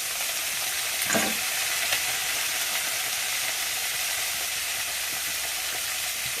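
Shrimp frying in a pan with chili, a steady loud sizzle that runs unbroken for several seconds, with faint stirring scrapes.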